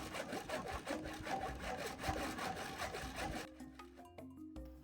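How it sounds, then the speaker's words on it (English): A handsaw cuts timber for window frames at a village building site, making quiet, steady rhythmic rasping strokes that stop abruptly, leaving a few faint knocks. "they were using a handsaw to cut the timber down to the right sizes for the window frames"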